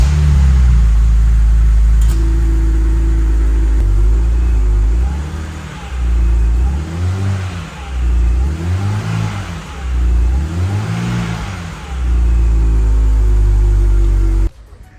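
BMW N52 inline-six engine, fresh from an oil pan gasket replacement, starts and idles with a steady low rumble, then revs up in four or five rising and falling bursts before settling back to idle and cutting off.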